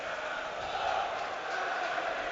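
Football stadium crowd at Brentford versus Fulham in the Premier League, a broad steady roar of many voices rising slightly after a Brentford chance, distant and continuous.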